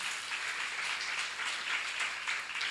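A seminar congregation in a church setting breaks into steady, moderately loud applause, a continuous wash of many hands clapping at once.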